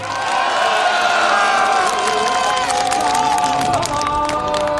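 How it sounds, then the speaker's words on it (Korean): A crowd at a Gangjeong village gathering on Jeju Island cheers and applauds, a loud, dense wash of clapping, shouts and whoops that holds steady for about five seconds, with scattered voices mixed in. "격려와 감사의 박수를 보내주시기 바랍니다"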